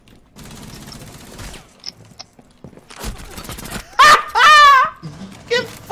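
Hip-fire gunshots in Rainbow Six Siege ring out in close, loud bursts amid game noise, with people talking and laughing over the shooting.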